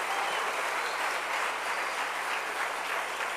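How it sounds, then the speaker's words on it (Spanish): A crowd claps steadily, a dense continuous wash of applause at moderate distance with a low steady hum beneath it, no voices breaking through. "Denle un aplauso al rey, hombre"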